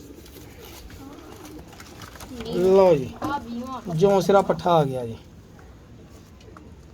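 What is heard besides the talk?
pigeons cooing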